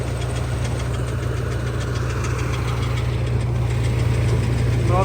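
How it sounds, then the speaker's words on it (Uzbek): A tractor engine drives an Afghan rice mill that hulls paddy into rice, producing a steady, close, rumbling idle with a constant mechanical hum and no voices. "Mana bu traktor esa tegirmonni mana shunday qilib aylantiradi do'stlar."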